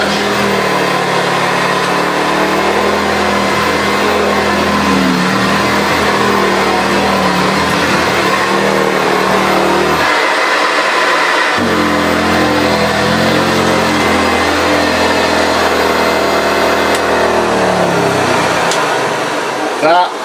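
A Hoover U4082 upright vacuum cleaner runs on carpet with a steady loud motor drone that keeps going throughout, dipping in pitch for a moment partway through as it bites into the pile.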